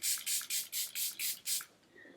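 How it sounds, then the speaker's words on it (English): Makeup setting spray is misted over a face in seven quick, even bursts, each a short soft hiss from a close pump bottle, followed by a brief quiet tail. "I'm just gonna do a light spray of that and just kind of lightly go over everything."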